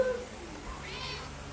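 A black cat gives a short, soft meow at close range, one brief drawn-out call over a quiet room hum.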